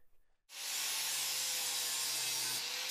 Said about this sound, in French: Pour cela, Kuhn utilise à nouveau la fraise à lamelles.